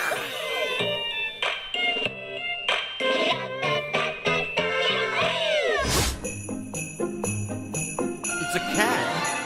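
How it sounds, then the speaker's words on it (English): A cat meows repeatedly to upbeat, tinkling music in the trailer for the rhythm game Ratatan, the calls standing out clearly against the bouncy soundtrack. "It's a cat."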